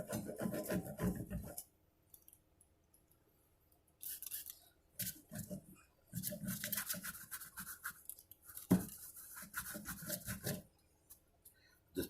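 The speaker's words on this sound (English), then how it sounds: "Just buff up with the rag, makes the wood shinier and the frets also." A rag buffs the frets and wooden neck of a banjo, making close, dry rubbing strokes in several bursts separated by short quiet pauses.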